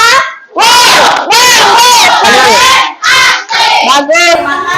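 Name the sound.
class doing the 'tepuk wow' clapping chant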